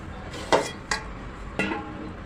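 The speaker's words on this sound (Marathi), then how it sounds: "झाकण काढत आहे भाजी मिक्स करते" A lid comes off a pan of cauliflower, pea and potato bhaji and a spoon stirs it, giving three short metallic clinks against a soft background hiss.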